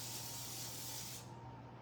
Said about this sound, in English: I've got a little olive oil non-stick cooking spray. Just gonna spray this over the sink real quick